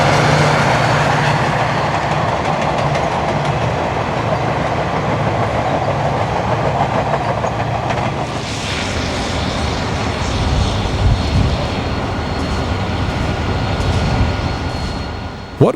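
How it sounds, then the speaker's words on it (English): Amtrak's westbound Three Rivers passenger train rolls past the Conrail engine facility at Crescent toward Johnstown, a loud, steady rumble and rush of wheels and cars lasting the whole stretch. "Amtrak's westbound Three Rivers rolls past the engine facility at Crescent on its way to Johnstown"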